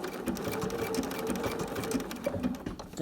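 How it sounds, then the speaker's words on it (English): A sewing machine stitches a wide blanket stitch to appliqué fabric onto a background, running steadily with a continuous mechanical whir and rapid needle clatter, close and alone. "I'm going to go with a simple blanket stitch"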